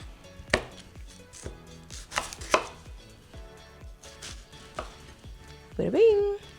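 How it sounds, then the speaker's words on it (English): A knife chops a yellow onion into thin slices on a board in a run of sharp, close thuds at an uneven rhythm, with a louder clatter near the end. "I've got here one yellow onion that I'm going to gonna go ahead and give a nice chop."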